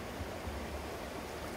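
Running water at Virgen Falls in Palawan makes a steady, full rushing roar with no breaks and no voices.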